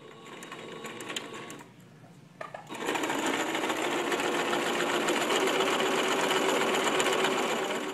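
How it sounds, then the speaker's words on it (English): A sewing machine stitches a 3/8-inch fabric seam for a small tissue-package cover: a few brief hums start and stop, then after a pause the motor runs in a steady, close, loud whir to the end; no voices. "So I'm going to position this at the 3/8 and sew a seam down there"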